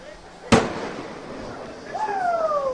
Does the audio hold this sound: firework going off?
yes